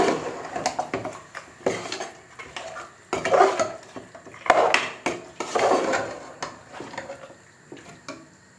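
A spoon stirs yogurt into spicy Hyderabadi mutton masala in a pot, with irregular close-up scrapes and clanks against the metal over a light sizzle.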